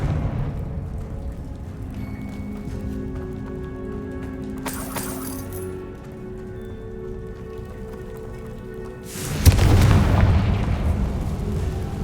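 Confringo fire spell exploding in the Hogwarts Legacy video game, a sudden loud burst late in the clip that rolls into a sustained crackling rumble over steady game ambience.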